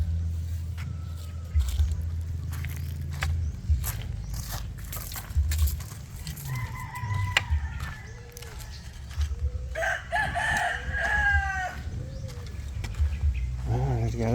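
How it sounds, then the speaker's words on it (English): Chickens outdoors with a rooster crowing twice in clear, drawn-out calls over a low, steady background rumble, amid scattered clucks and knocks. "There's got to be a chicken."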